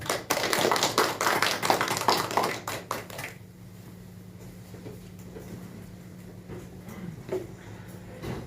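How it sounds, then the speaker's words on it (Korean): A church congregation applauds in thanks during a New Year's first Sunday service: a dense burst of many hands clapping for about three seconds, then cutting off to a quiet room with a low steady hum. "우리에게 새날 새해를 주신 우리 하나님 앞에 감사의 박수 올려드리겠습니다"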